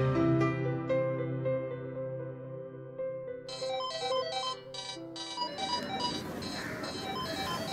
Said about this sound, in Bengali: প্লিজ আমার ফোনটা তুলুন।